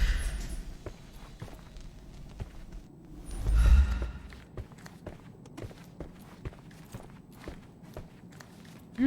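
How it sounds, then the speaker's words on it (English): Muffled footsteps thud overhead in the Sherlock Holmes mystery game Sherlock Red, a run of soft, fairly regular steps with one heavier, louder thump partway through, all heard indoors and fairly faint. "I heard footsteps upstairs a second ago"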